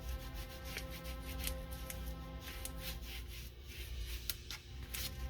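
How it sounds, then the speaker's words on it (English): Paper is burnished down onto a junk journal cover made from a Little Golden Book, a close, quiet, continuous rubbing and scraping with rhythmic strokes throughout. "So now let's burnish that all down."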